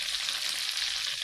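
Pieces of chicken meat fry in oil with a steady, bright sizzle, close and continuous through a brief moment, with no voices.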